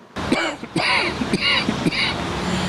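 Several rough, raspy coughs or throat-clearing bursts from a man who struggles to speak, close by, spaced irregularly over a few seconds with breathy noise between them.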